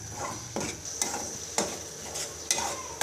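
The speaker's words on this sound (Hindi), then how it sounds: "थोड़ी सी हरी मिर्च डालूं, तो मैं इसे अच्छी तरह से भूनूंगी" Spiced brain with green chillies fries in a pan, a soft steady sizzle broken by several sharp scraping stirs of a spatula against metal, close and without talk.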